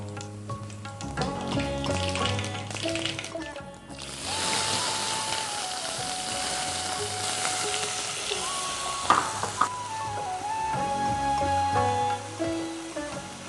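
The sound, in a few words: cumin and mustard seeds frying in oil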